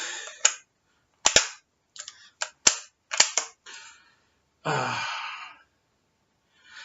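A Weihrauch HW60J rifle, its stock slightly scratched, fires several sharp, close shots in an uneven sequence with short gaps. A longer hissing burst follows near the end.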